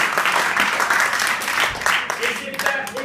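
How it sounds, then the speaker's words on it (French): Audience applause at a student debate training session at Assas, a steady dense patter of many hands filling the whole stretch, with voices mixed in underneath. "C'est parti, on les applaudit tous,"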